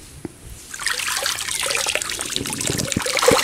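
Water runs and trickles steadily while a fish is washed clean for frying, close up with a few small splashes and knocks, building slightly after a quiet start.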